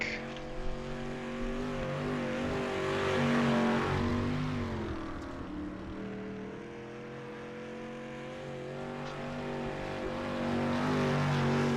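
A dirt track race car, number 11, laps Limaland Motorsports Park, its engine droning and rising and falling in pitch as it swings through the turns, heard steadily at a moderate distance.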